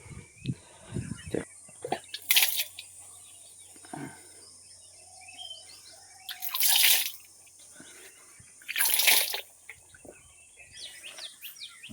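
Water is drawn from a well with a pot on a rope: three loud splashing bursts stand apart, with quiet drips and occasional bird chirps filling the gaps between them.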